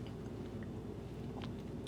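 Someone chewing a bite of keto custard pie with a flaky, crispy crust, soft close-up mouth sounds with faint crunchy and squishy textures, quiet and steady, no speech.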